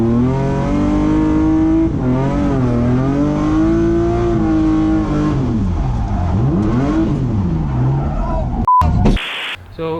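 A BMW E36 drift car revs hard at a twin drift trial, its engine note rising and falling through repeated loud pulls. It ends with a sharp burst and a cut to a different, quieter sound.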